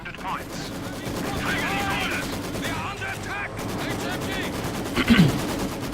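Continuous rattling gunfire and explosions from a Company of Heroes 2 match, a dense far-off barrage crackling steadily with a heavier burst near the end, under a voice.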